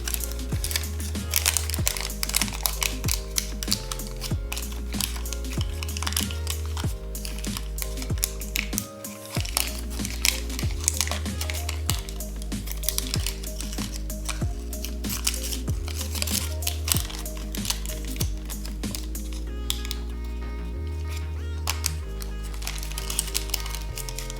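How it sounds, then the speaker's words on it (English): Origami paper, worked into the head of a Zoanoid Dragon, is folded and creased by hand in a rapid, continuous run of crisp crinkles and sharp snaps, close and loud, with no talk. "once you fold this up, you can just fold this flap down, like so"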